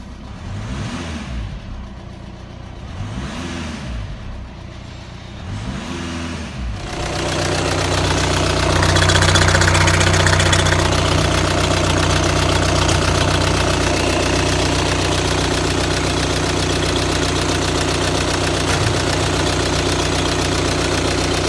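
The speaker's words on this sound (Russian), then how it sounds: "Имеется видеообзор работающего двигателя." A running VW engine from a 2011–2016 Tiguan idles steadily on its own, a dense continuous mechanical drone that grows louder and fuller partway through after a few seconds of rhythmic pulsing.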